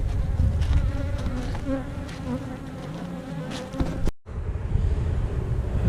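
Honeybees buzz steadily at a beehive, a dense, continuous hum close by with faint wind noise and a brief dropout near the end, no talking.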